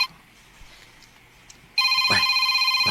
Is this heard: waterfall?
no